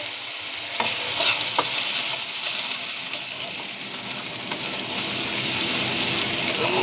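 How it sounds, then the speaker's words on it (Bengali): Potatoes and shrimp frying in hot oil for homemade chowmein, a loud, steady sizzle close up with a few faint stirring clicks and no talking. "প্রথমে আমি আলু ভেজে নেব চিংড়িটাকে চালিয়ে দিই"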